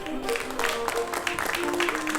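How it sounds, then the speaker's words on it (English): A studio audience applauds a guest, Mr. Matovu Kayizzi, on a talk show; continuous crowd clapping mixed with voices and bits of music. "Please give him a round of applause, Mr. Matovu Kayizzi"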